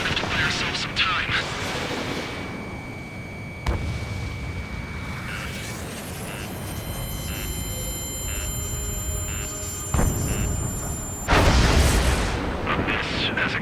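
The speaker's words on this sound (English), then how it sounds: "Some kind of energy weapon. No, it's a railgun." Railgun fire in the Ace Combat 7 video game: heavy, booming energy-weapon blasts and rumbling impacts layered with game music and electronic tones, while voices speak over the action.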